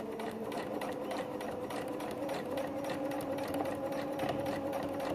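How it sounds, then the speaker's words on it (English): A sewing machine runs steadily down the side seam of a dress, a continuous fast mechanical whir and stitch rattle, close and moderately quiet, with no talking over it. "Put the presser foot down, and then I'm just going to come down"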